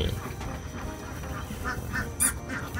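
Ducks on a farm quack and honk in a busy, overlapping chorus, with one louder call standing out above the steady flock noise.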